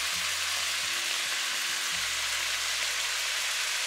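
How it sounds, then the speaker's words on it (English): Thinly sliced stir-fry meat frying in olive oil in a pan, with a steady, close, even sizzle throughout and a faint low hum underneath. "We're just gonna cook this until it's pretty much browned"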